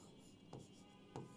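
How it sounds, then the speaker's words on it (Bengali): A pen scratches on paper during a science lesson: two brief, faint strokes spaced apart against a quiet background, with no talking. "আমি এখানে একটু লিখি"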